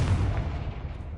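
A Confringo fire spell detonates in Hogwarts Legacy, one loud, deep boom that rolls off and fades over about a second.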